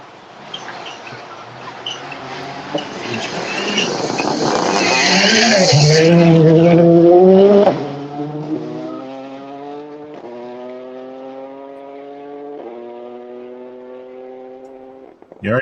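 A Rally 2 rally car on a gravel forest stage at the Olympus Rally, engine rising loudly to a near peak as it passes, then changing gears and fading as it accelerates away.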